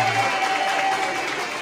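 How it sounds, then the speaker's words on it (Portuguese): A party crowd at a woman's 80th birthday celebration claps steadily in a warm room, the applause a dense, even patter that holds for the whole moment before slowly easing. "Uma salva de palmas,"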